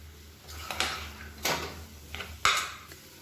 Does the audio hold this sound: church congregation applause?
no